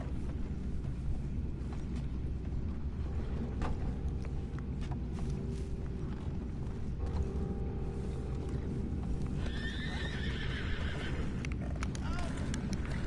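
Horses in Red Dead Redemption 2 whinnying with clip-clopping hooves, a busy mix with creaks, a clear neigh near the end, and voices talking in between.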